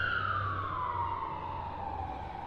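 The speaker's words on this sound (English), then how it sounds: "That was a white police car going by" A white London police car siren passes on a wide street near Scotland Yard, a loud wailing tone that slowly drops in pitch as it moves away, over traffic rumble.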